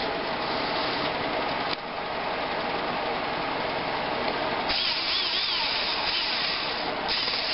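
A power screwdriver drives screws back into the plastic shell of a Nerf Raider blaster, whirring loudly and continuously up close, with a brief break and a change in pitch partway through.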